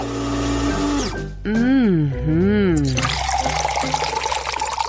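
Milk is whisked by hand with a whisk, giving a quick, rhythmic frothing swish over the last couple of seconds, after a tonal, voice-like sweeping sound at the start.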